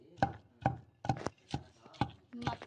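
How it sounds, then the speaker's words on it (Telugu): Green chillies are pounded by hand into a chutney for a dondakaya roti pachadi, giving six sharp, regular thuds about half a second apart, close and moderately loud, with no talking. "పచ్చిమిరకాయలు వేసి అలా బాగా కొట్టుకొని బాగా మెత్తగా చేసుకోండి"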